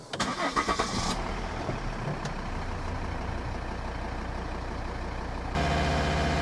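A 2012 Volvo XC60 D5 diesel engine cranks briefly and then catches, settling into a steady, loud idle close by. The engine note roughens partway through and steps up near the end.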